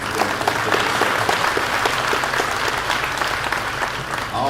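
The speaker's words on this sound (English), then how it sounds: "Let's give a large round of applause for the Beta Club who helped us tonight." A crowd at an evening political forum gives sustained, loud applause, dense overlapping clapping throughout with no speech.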